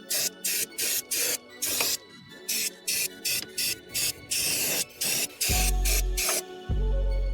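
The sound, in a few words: brake cleaner spray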